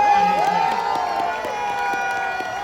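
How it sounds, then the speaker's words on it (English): Stadium crowd at the T20 World Cup final prize distribution cheers and applauds Rohit Sharma, a broad roar of distant voices and clapping with a tonal whistle or horn riding over it. "Round of applause one more time for Rohit Sharma."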